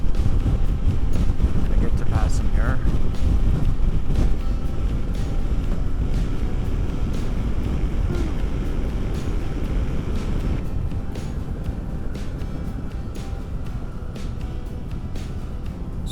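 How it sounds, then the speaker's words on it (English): Heavy wind buffets the microphone as a motorcycle rides behind a truck on a road near Ottawa, Ontario. The roar is steady and close throughout, with a rider's voice speaking briefly over it. "It's really windy behind this truck."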